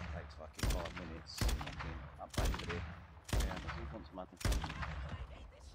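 Five loud gunshots in a video game, spaced roughly evenly about a second apart, each sharp crack followed by a short rumbling tail.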